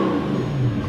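Audi R8 with a straight-piped exhaust gives a loud, close, continuous rev, a brief burst of engine roar with no talking.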